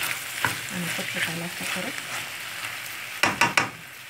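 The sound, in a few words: falafel and chicken frying in a covered pan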